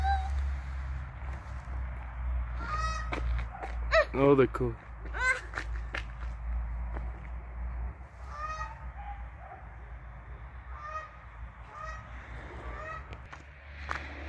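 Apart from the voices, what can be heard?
ducks quacking at a house in Italy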